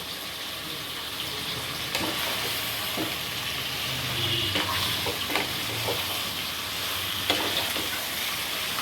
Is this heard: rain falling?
no